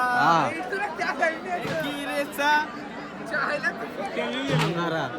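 Dense crowd chatter from pilgrims at Jejuri temple, many overlapping voices murmuring and calling out close by, with a few individual voices rising above the steady hubbub.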